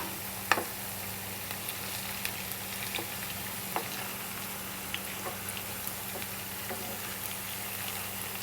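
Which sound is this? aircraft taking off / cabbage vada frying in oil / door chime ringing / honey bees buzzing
cabbage vada frying in oil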